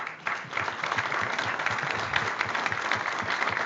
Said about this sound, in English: I would like a big round of applause to both of you